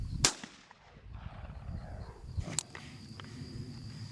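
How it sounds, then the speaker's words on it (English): A 12-gauge shotgun fired in a sound-design recording session, two sharp loud blasts about two seconds apart, each trailing into a short reverberant decay over low background rumble. "this is going to be a 12-gauge shotgun"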